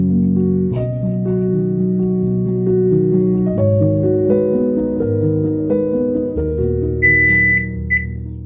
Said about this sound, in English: our timer has gone off